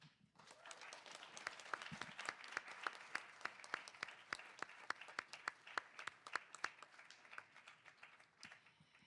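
An audience applauds panelists at a talk on countering militarism, with crisp, fairly sparse claps in an irregular rhythm that run on for several seconds and fade slightly toward the end.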